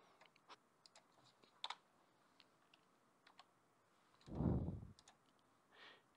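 Light typing on a computer keyboard during legal software data entry, with sparse key clicks scattered across the stretch and a louder thump of keystrokes near the end, fairly quiet and without talk.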